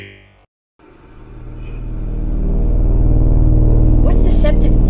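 A car's engine starts rumbling after a brief silence and builds into a deep, swelling drone as it pulls away, growing louder and closer, with a short burst of voices near the end.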